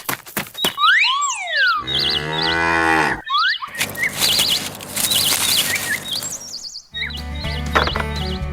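Cartoonish cattle mooing from a miniature mountain farm diorama scene, several loud drawn-out moos mixed with bright bird chirps and springy sound effects.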